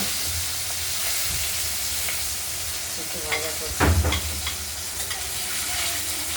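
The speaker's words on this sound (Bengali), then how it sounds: "আমরা হালকা একটু ভাজা করে নেব।" Katla fish pieces frying lightly in oil, a dense continuous sizzle and hiss close up, with a short burst of louder spitting and crackling midway and a faint voice underneath at times.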